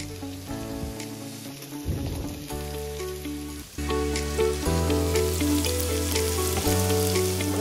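Onion frying in a pan for chicken lollipop sizzles and crackles steadily, close and fairly loud, with a brief louder stir partway through and no talking.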